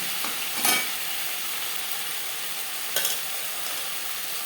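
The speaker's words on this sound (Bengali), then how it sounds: "দিলাম পুঁই শাকের ডাটা ও কুমড়োর সাথে বেশ ভালো করে মিক্স করে দেবো কাঁচা গন্ধ যাওয়া পর্যন্ত নাড়াচাড়া করে নেব" Malabar spinach stalks stir-frying with pumpkin in a Bengali home kitchen, sizzling loudly and continuously with a couple of brief scrapes of the spoon.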